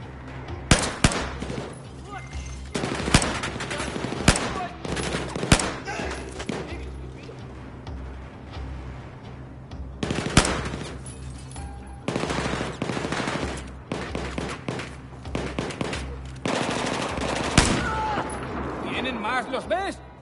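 Rapid video-game gunfire in a Battlefield 4 match: repeated bursts of machine-gun fire and sharp single shots, loud and close, with heavy reverberant booms, while players shout over the firefight.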